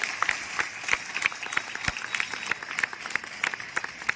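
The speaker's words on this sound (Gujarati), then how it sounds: "એટલે જોરદાર તાળીઓ તમારા માટે પહેલા" Audience applause at a Republic Day celebration in Gujarat: a crowd's dense, steady clapping with sharp individual claps standing out, held at an even level throughout, moderately close and without talk.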